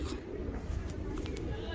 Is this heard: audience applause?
no